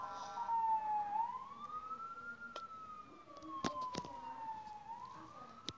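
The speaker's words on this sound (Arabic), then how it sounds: "لك بسرعة مستعجل الإسعاف" An ambulance siren wails up and down in long sweeps, heard from some distance, with a few sharp knocks and clicks on top of it.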